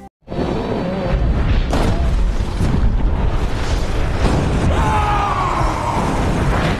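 An atomic bomb detonates in a Preacher TV episode, a sudden massive boom that swells into a sustained, dense roar of rumbling blast and debris lasting several seconds.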